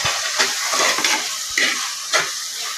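Onions sautéing in a pan, with a continuous sizzle and repeated scraping strokes of a spoon against the metal, several distinct stirring sweeps close by and no talking.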